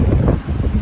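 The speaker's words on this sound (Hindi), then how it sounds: "बहुत तेज़ हवा है बालकनी में भी" Strong wind buffets a balcony during winter storm Ciara in the UK, a dense rushing roar that stays close and steady for under a second, with no voices.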